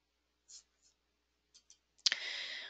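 A computer mouse clicks on a web page menu with a few faint, quick clicks, followed by a sudden louder click and a short burst of hissy noise.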